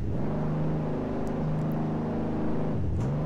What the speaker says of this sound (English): Oh, you want to hear some revs?